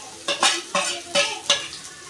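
Spoon or spatula stirring and mashing potato filling for aloo paratha in a pan, several scraping strokes in an uneven rhythm, close and fairly loud, with no talk.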